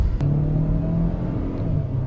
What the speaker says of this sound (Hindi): वैन यू हार्ड एक्सलेट तो थोड़ी शोर भी मचाती है, जो इंजन अपना थोड़ा नॉइजी भी होता है।